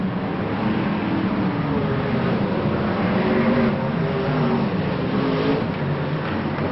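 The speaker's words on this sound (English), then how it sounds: "John Lund has just gone past Williams in car number 26" BriSCA Formula 1 stock cars racing on the oval at Boston, a steady roar of engines filling the whole stretch, with harmonic engine tones rising and falling as cars pass through the pack.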